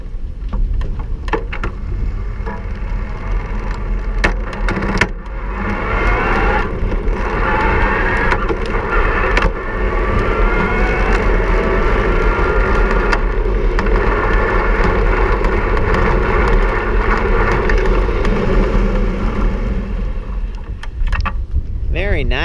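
Gazelle NL C8 HMB e-bike ridden at its highest assist level, a steady motor whir blended with road and wind noise, loud and continuous for the whole stretch, with brief knocks and rattles over bumps.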